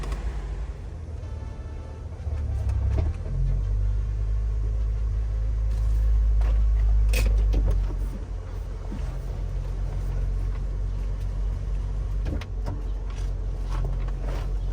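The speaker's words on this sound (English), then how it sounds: "I'm gonna go ahead and drive it a couple times and see how the car feels" BMW E46 fitted with an N55 engine on a test drive, a deep, steady engine rumble from inside the car that swells louder for several seconds mid-clip and then settles, with no voices.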